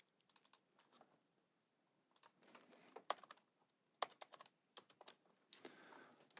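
Bursts of clicky keystrokes on a computer keyboard, irregular and close, with quiet pauses between flurries.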